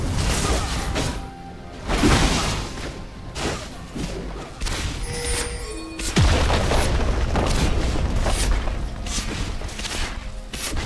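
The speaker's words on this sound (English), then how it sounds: "Your turret has been destroyed." A League of Legends turret collapsing under attack: heavy booms, thuds and a crashing impact around the middle, loud and close amid ongoing battle effects, with a brief game announcer voice.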